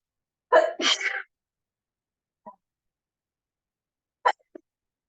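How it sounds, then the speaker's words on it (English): A single close sneeze bursts out, followed by a faint breath and then a small sharp sniff or hiccup-like catch in otherwise near silence. "I'm going to sneeze, excuse me"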